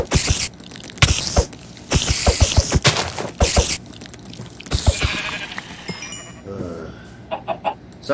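Sheep in the video game Minecraft bleat repeatedly in short, loud, close bursts, several calls in quick succession with brief gaps, with a few game clicks toward the end.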